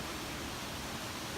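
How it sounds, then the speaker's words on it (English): Small waterfall on a steep hillside path in Scotland, a steady broadband rush of falling water that stays even and continuous throughout, close and moderately loud with no voices. "we've made it to a little waterfall just here"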